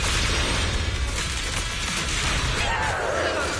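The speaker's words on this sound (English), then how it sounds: "Pretty fireworks." Fireworks bursting in the video game Zenless Zone Zero, a dense, loud wash of crackling pops and booms filling the whole moment without pause.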